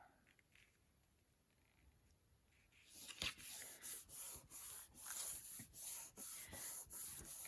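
A hand presses and rubs paper card pieces onto double-sided tape while assembling a diamond pop-up card. After a quiet start come close, rhythmic rubbing strokes in a steady series.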